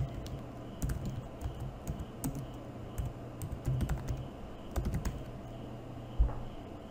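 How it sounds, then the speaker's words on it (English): Text being typed on a computer keyboard: bursts of close, quiet key clicks in an uneven rhythm, with a slightly heavier tap near the end and no speech. "just double click it and type in your text"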